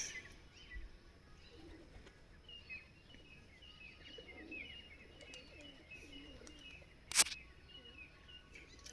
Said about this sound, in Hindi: कुड़ कुड़ कुड़ की आवाज़ आ रही थी ना